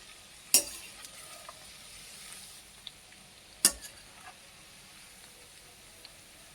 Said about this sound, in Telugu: ఇలా మీడియం ఫ్లేమ్లో పెట్టి వేగించాలండి